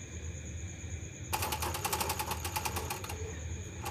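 Close by, a sewing machine runs a quick burst of rapid rhythmic stitching for about two seconds, attaching lining to the fabric of a princess cut blouse over a low background hum.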